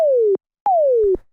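Two synthesized sine-wave 'pew' zaps, each a pure tone sweeping quickly downward in pitch under a pitch envelope, played loud and isolated with a short silence between them in a tech house production.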